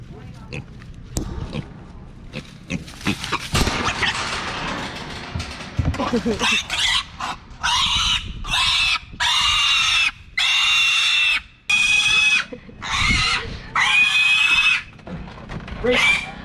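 Pigs grunt and squeal repeatedly at close range, shrill squeals coming in bursts, while people talk nearby during severe stormy weather with a tornado warning.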